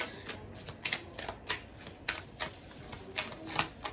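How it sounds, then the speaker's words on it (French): Cards from an oracle deck being handled and drawn, giving a run of quick, light papery flicks and slides in an uneven rhythm, close and fairly quiet, with no talking. "je vais vous prendre une carte et ensuite on va regarder dans le livre l'interprétation"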